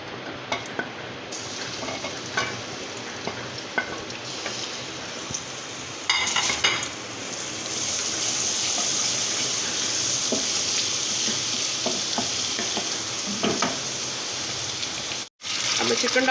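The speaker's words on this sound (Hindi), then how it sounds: "मैंने 1/4 कप घी लिया है और सबसे पहले इसमें मैं लहसुन अदरक डालूँगी।" Garlic and ginger sizzle in a quarter cup of hot ghee for chicken karahi, a steady broadband frying hiss that jumps louder after about six seconds as the pieces go in, with occasional stirring clinks and no talk.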